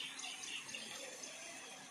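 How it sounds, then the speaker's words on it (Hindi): Waterfalls at Musi Maharani ki Chhatri in Alwar, India, pour with a faint, steady, distant rush of water that never lets up. "एक झरना इधर चल रहा है एक उधर चल रहा है"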